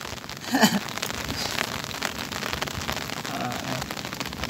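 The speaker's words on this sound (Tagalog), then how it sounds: "Kahit malakas ang ulan, tuloy lang." Heavy rain pours down steadily on Talim Island, a dense hiss of drops hitting surfaces, with a brief faint rustle near the start.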